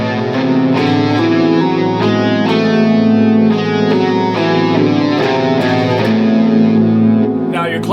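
An electric guitar run through effects and distortion plays an A melodic minor scale. The notes are loud, sustained and follow each other smoothly up the scale, with a bright, processed tone and no talk.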